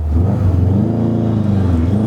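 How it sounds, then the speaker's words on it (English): A Subaru WRX STi rolls into a first gear pull, its engine loud and close, the low rumble climbing steadily in pitch as it accelerates. "So I'm gonna do a first gear pull to see, I'm gonna do a pull on this car"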